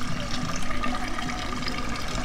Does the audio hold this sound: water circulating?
yes